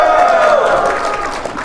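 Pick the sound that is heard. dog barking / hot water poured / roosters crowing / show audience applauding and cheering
show audience applauding and cheering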